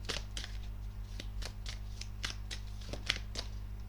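Tarot cards are handled and laid down during a reading: a close series of crisp card slaps and shuffling flicks at an uneven rhythm over a steady low hum, with no speech.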